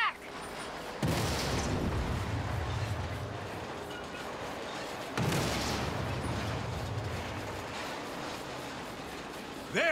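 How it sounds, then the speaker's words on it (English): Deep explosive booms in a video game erupt twice amid a constant rumbling battle din, with heavy low-end blasts rolling out and fading. "I'm seeing explosions all over."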